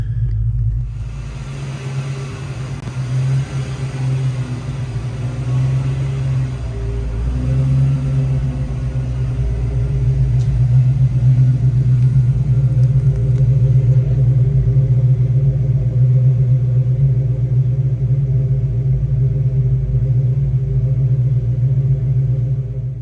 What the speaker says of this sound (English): I'm gonna take it for a little drive